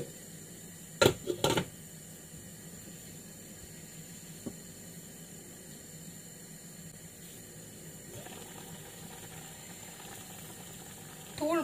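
Tamarind curry sauce with spice powder simmers in a pot for yam gravy, giving a faint, steady bubbling hiss throughout, with a few louder clanks early on.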